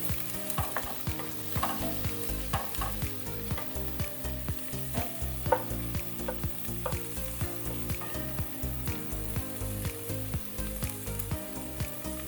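Onions sauté in a pan for totsong isda, a close steady sizzle broken by regular rhythmic scraping and stirring strokes throughout, with no voices.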